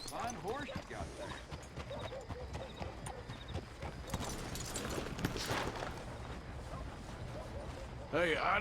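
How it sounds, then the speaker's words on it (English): Horse hooves clip-clopping in Red Dead Redemption 2, a steady rhythmic run of hoofbeats throughout with a brief whinny, mixed under game ambience and a speaking voice. "Fine horse you got there."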